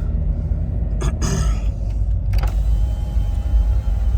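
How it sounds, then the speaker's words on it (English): A 2000 Jeep Cherokee XJ with 57K miles idles with a steady low rumble while its power windows whir in brief motor bursts, two short runs close together, then another moment later. "all the windows work"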